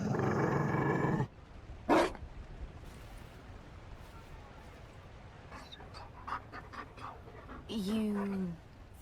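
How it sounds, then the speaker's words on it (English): A Mabari war dog in Dragon Age: Inquisition pants rapidly and then gives a few short growls and huffs, close by, with a voice briefly heard near the end. "You found a dog?"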